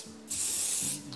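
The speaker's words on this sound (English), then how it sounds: "So I'll be using my ultra hold spray, my forever favorite hold spray." Ultra hold hair spray misted from a can onto a frontal ponytail hairstyle, a single close, steady hiss lasting about half a second, with faint background noise around it.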